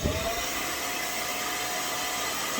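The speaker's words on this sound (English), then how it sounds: "I take my blow dryer and I put it on the medium heat right here" Hair dryer on medium heat, used while laying a glueless lace wig, giving a steady broadband whoosh that stays loud and even for the whole stretch with no talking.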